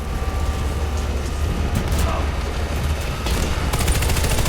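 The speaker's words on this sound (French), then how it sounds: "Mitrailleuse en service." Sustained automatic gunfire roars through a Warface match, a dense, loud, continuous rattle of rapid shots with rhythmic bursts toward the end, layered over other battle noise and a radio-style voice.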